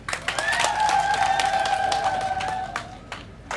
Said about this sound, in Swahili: Basi makofi kwao.